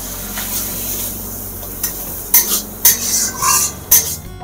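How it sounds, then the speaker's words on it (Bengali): Spice masala of turmeric, cumin powder and chilli powder stir-fried with splashes of water in a pan for jackfruit kofta curry, a soft low sizzle broken by several sharp utensil scrapes and clinks near the end, no voices. "অল্প অল্প করে জল দেব আর কষাবো।"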